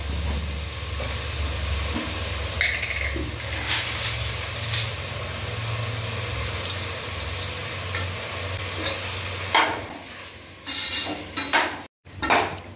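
Steady sizzling from tomatoes sautéing in a pan, with occasional spatula scrapes and stirring clinks close by.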